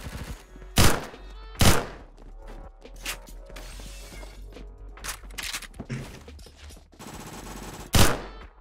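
Bursts of G11K2 rifle fire in the Roblox game Phantom Forces: short rapid volleys and several sharp, loud single cracks, spaced unevenly over background game noise.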